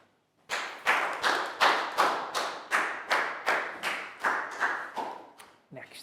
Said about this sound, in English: a big round of applause too